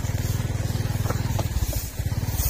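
A motorcycle engine runs steadily close by, its rapid regular low pulsing continuous throughout with no talk over it.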